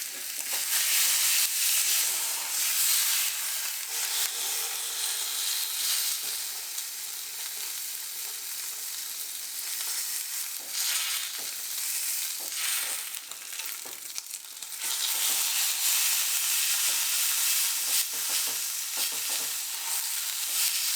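A beef roast sizzles loudly and continuously in a hot pan while being flipped, with a bright, dense hiss and short scraping and stirring noises, no voices.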